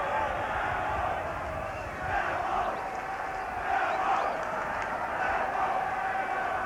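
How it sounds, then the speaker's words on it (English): Millwall football crowd roaring and cheering in a stadium during a match against Preston North End, a dense continuous wash of voices with swelling surges, with a commentator talking over it. "But Millwall with the crowd so much behind them."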